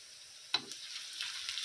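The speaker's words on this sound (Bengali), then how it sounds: "পেঁয়াজটা আমার গোল্ডেন করে আমি ভেজে নিয়েছি। এর মধ্যে আমি দিয়ে দিচ্ছি এবারে রসুন বাটা" Garlic paste goes into golden fried onions with one sharp hit followed by a soft, steady sizzle that swells faintly.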